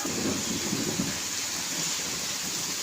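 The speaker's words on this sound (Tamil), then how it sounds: "நல்லா பெரிய மழையாக பெய்யுது ஃப்ரெண்ட்ஸ்" Heavy rain pours steadily in Attur on a still evening, a dense, even hiss with no letup and no voices.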